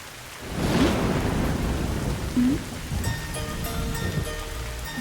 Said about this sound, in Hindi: बारिश हो रही है, कोई बात नहीं।